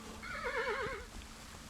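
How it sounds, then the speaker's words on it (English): A horse in the video game Kingdom Two Crowns gives a single clear, wavering whinny lasting under a second, fairly faint with quiet background after. "You're just neighing at me."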